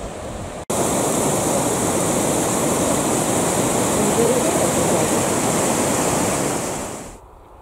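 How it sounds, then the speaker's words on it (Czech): Öxarárfoss, a 13-metre waterfall about 6 metres wide on the Öxará river in Iceland, roars as a loud, unbroken rush of falling water that starts abruptly and fades near the end, with no voices. "Vodopád Oxarárfos na řece Oxará je 13 metrů vysoký a má průměrnou šířku 6 metrů."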